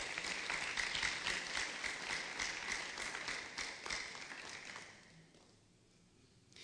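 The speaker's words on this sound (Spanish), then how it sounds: "Dele la ofrenda de palmas al Señor" A church congregation at an annual pastors' retreat claps as an offering of praise, a sustained crowd of hands heard at a moderate distance that fades out near the end.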